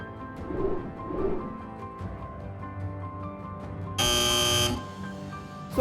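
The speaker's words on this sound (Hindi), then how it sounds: "एक बार फिर से बजर दबा है" A quiz show buzzer pressed by a contestant blares once, a loud flat electronic tone lasting under a second, over soft background music.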